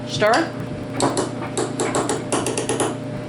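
Lard soap mixture of shea butter, cocoa butter, olive oil, glycerin and vitamin E being stirred in a container, giving repeated scraping clinks in short bursts at a close, moderate level, with a voice heard briefly.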